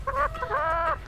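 An injured chicken on a poultry farm gives a short burst of nasal clucks close to the microphone, two quick calls in about a second.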